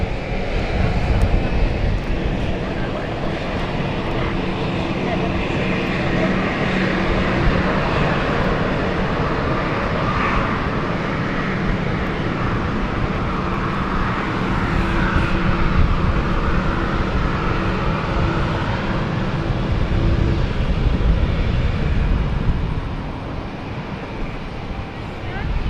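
A FlexJet business jet at London City Airport, its engines roaring steadily and fairly loud through a broadband rumble with wind buffeting the microphone, while people talk over it throughout.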